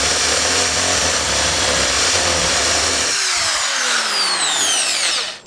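A power drill with a 10mm bit boring holes during a van renovation, a loud, close, continuous motor whine that changes pitch partway through and then winds down at the end, with no talking.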